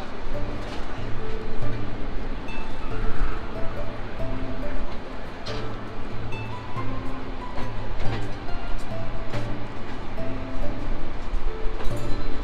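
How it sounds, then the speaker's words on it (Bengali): The Jahanabad Express intercity train pulls away from Kashiani junction, a steady rushing, rattling roar of wheels and wind heard from aboard for the whole stretch, with rhythmic clacks over rail joints. "তো আন্তনগর Jehanabad express departure Kashiani railway junction"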